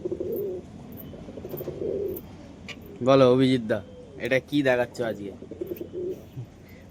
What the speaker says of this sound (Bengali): পিওর দাসু পায়রা আছে এটা